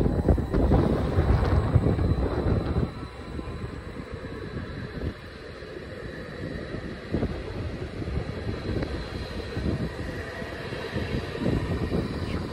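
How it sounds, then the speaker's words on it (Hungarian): A FLIRT electric train pulls away toward Sülysáp with a steady broadband rumble and hiss, loudest at first and then settling into a continuous rolling drone, with wind noise on the microphone. "És akkor indul Sűjsáv felé a Flirt vonat"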